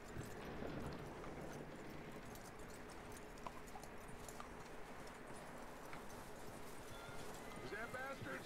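Horse hooves clip-clopping in Red Dead Redemption 2, a steady faint patter under continuous ambient game sound and bird chirps, with no clear talking.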